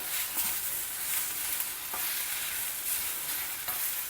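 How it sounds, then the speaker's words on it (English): Sliced capsicum and onions with masala sizzle steadily in a pan, a continuous hiss close by with a few soft scraping stirs. "we'll mix it everything well together so that the capsicum, onions are all well coated with the masala."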